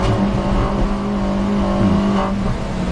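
A 2018 Mini Challenge Cooper S race car engine revs hard and climbs through the gears at Brands Hatch, loud and close, with a sharp rising whine near the end and no speech.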